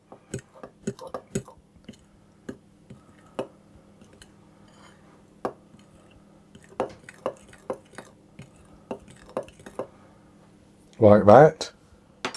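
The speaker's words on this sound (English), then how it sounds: "now I'm going to put my salt and my baking powder into my flour and give that a good stir around" A spoon stirs salt and baking powder into flour in a bowl, giving scattered sharp clinks and taps against the bowl at an uneven pace. A brief spoken phrase comes near the end.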